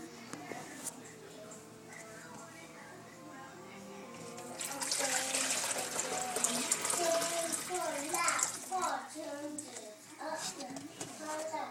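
Water pours into a dog's bowl in a burst of splashing that builds midway and runs several seconds, fairly close, with a voice and other talk over it.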